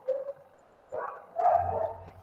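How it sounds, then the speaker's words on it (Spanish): Household dogs yap a few times, quietly and at some distance: a short bark, a gap, then a couple more over a faint low hum. "por ahí se escuchan un poco mis perros"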